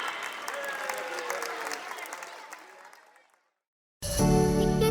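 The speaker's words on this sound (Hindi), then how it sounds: "जोरदार तालियों से स्वागत कीजिए सभी का।" A crowd at a school Republic Day celebration applauds, steady loud clapping that gradually fades to silence before music starts abruptly.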